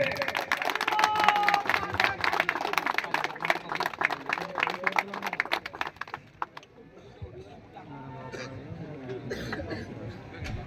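Audience applause at a welcome ceremony in Jamugadia, Odisha: dense crowd clapping loud and steady for several seconds, then fading to scattered claps and murmuring chatter.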